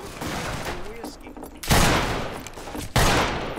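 Remington Army revolver in the Fistful of Frags video game, two sharp loud gunshots about a second apart with long reverberant tails, following a stretch of game noise and talk.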